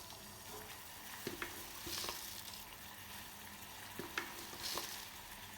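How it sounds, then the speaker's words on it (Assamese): Oats go into a small pot of boiling water, giving a quiet, steady bubbling hiss broken by a few faint clinks and taps. "ইয়াতে মই একাপ পানী দিছিলোঁ, পানীখিনি এতিয়া উতলি গ'ল। ইয়াৰ পিছত দিম মই অ'টছ।"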